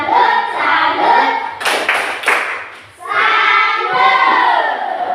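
A group claps together in a burst of applause for a couple of seconds, surrounded by loud overlapping voices and cheering.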